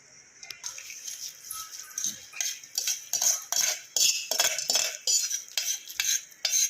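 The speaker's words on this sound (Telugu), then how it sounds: "అన్నాన్ని మరలా ఒకసారి కలుపుకొని ఇప్పుడు పోపుని అయితే ఇందులో వేసుకుందాము" Cooked rice mixed with a mango tempering in a pot, for mango pulihora: close, rhythmic scraping and clinking of a spoon against the pot, growing louder and steadier toward the end, with no talk.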